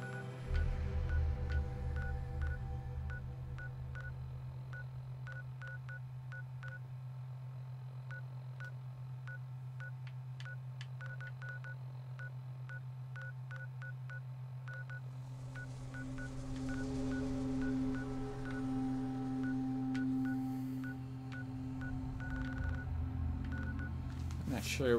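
Phone dialing tones in a Fallout mod video game, a long run of short keypad beeps, some quick and some spaced out, over a steady low hum, with a brief rising tone near the end.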